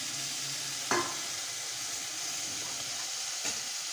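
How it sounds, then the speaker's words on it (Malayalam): Curry leaves hit a hot pan for an egg roast, giving a steady hiss of frying with two sharper crackling bursts, close and alone without talk. "നമുക്ക് വേപ്പില ചേർത്ത് വെക്കാം"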